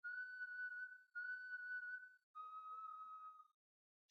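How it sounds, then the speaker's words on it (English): Three long, steady whistled tones, each lasting about a second, with short gaps between them and then silence. Clear and fairly close. "3 long whistles, then silence."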